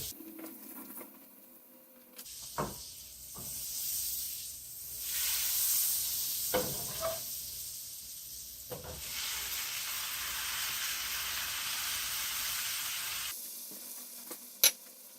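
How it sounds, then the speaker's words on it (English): Sliced mushrooms hit melted butter in a pan, breaking into a sudden, steady sizzle with a few clinks of utensils, close and without talk. "I'm going to add 3 tablespoons of butter. Don't want the butter to burn too quickly, so I have 2 tablespoons. I'm going to put the mushrooms right in."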